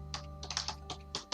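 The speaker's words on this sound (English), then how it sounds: "went the keyboard as I typed what should have been my last" Fast bursts of typing on a computer keyboard, about ten distinct close clicks in an irregular rhythm, moderately quiet with no talking.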